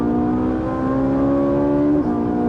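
A Ferrari 458 Italia V8 revs hard, winding up with a loud, rising, sustained engine note, then briefly drops off near the end, heard up close with no talking.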